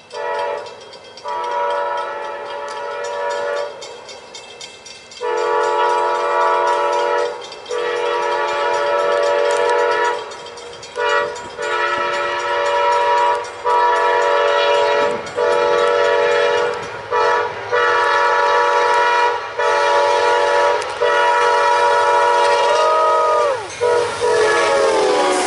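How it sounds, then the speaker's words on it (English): An Amtrak passenger train rumbles past nearby with steady clattering wheels while its horn blasts repeatedly in long, loud blares. "Are we at the Amtrak? PO90, northbound by Micro."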